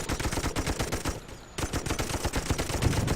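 Rapid machine gun fire in the Toy Soldiers video game, a dense rattling burst that pauses briefly, then resumes as sustained close, loud automatic shooting.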